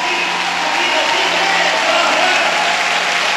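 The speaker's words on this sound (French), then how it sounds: "Je veux que tu acclames fort pour elle." Church congregation applauding and cheering, a steady broadband wash of clapping from a crowd that holds level for the whole stretch with faint voices mixed in.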